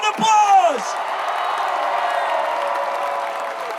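A crowd at the Baylor men's basketball championship parade applauds and cheers steadily, with a loud whoop and shouting near the start that settle into sustained clapping.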